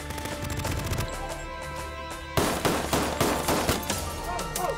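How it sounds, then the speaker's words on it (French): Gunfire in a TV crime show shootout: rapid bursts of shots crackle loud and dense, then a sharper, heavier volley breaks out midway and continues in repeated blasts. "Une fusillade reliée à la vente de drogue."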